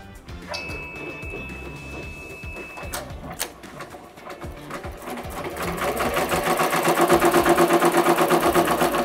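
Embroidery machine stitching a cutwork napkin, starting with scattered clicks and a brief beep tone, then settling into a loud, fast, rhythmic needle chatter that builds and continues steadily.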